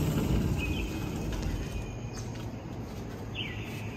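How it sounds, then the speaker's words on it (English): Birds chirp in the dark before dawn somewhere in Puerto Rico, with a few thin, scattered calls rising over a steady low rumble of outdoor ambience. There is no talking. "Hear the birds."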